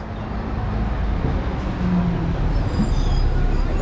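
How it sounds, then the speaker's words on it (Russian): City bus number 8 pulls up at a stop in Antalya, Turkey, its engine rumbling steadily amid roadway traffic noise, with a brief hiss of air brakes near the end. "Вот, ребята, подъезжает нам нужный автобус"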